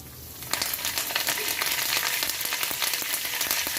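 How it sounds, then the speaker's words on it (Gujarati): Mustard seeds with urad dal, chana dal and curry leaves spluttering in hot oil for tempering; a sudden burst of crackle starts after half a second, then continuous dense popping close up. "હવે આપણી રઈને બરાબર આપણે તતડી લઈ"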